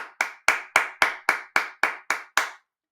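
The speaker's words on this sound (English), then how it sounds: "stand up and give Colin Ray a round of applause" A single person claps about ten times in a quick, even rhythm, a tribute to Colin Rea; the claps are close and crisp, with nothing else heard.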